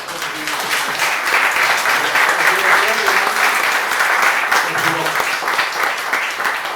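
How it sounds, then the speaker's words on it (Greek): A crowd applauds steadily at a book presentation at a Public store, dense clapping sustained loud and close for about seven seconds with no pause. "Το χειροκρότημα και μπράβο σας να το δώσετε στον Κραουνάκη."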